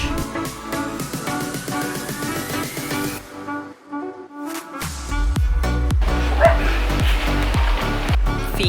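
A dog barks and yips repeatedly at close range, loud and rhythmic, with a quieter whimpering gap partway through before the barking resumes.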